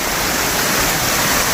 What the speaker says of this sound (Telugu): కనిపిస్తుంది కదా జలపాతం ఈ విధంగా అయితే పారుతుంది.